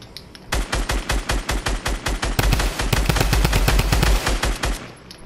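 Rapid automatic gunfire in a Fortnite match crackles in fast bursts, a loud burst-by-burst stream of shots with brief pauses and a denser sustained volley in the middle.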